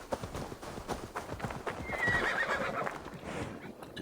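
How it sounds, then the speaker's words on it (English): A horse in Assassin's Creed Valhalla whinnies clearly near the middle while its hooves clip-clop in a steady rhythm throughout, close and moderately loud over a soft game ambience. "Then we call our horse."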